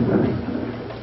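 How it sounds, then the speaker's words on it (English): Thunder sound effect in a high school stage performance of Our Town: a loud, close, rolling low rumble with rain-like hiss, steady and fading slightly across the brief stretch. "It's been pouring and thundering."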